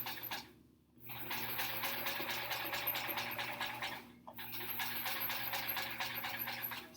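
A home sewing machine stitches a straight quilt seam in steady, rapid bursts, with two brief pauses where the needle stops before the motor whirs back up, close and clear with no talking.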